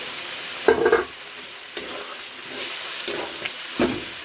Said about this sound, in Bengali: এখন দিয়ে দিচ্ছি এই আলু ভাজা আর পনির ভাজাটা দিয়ে দিচ্ছি জল সহকারে।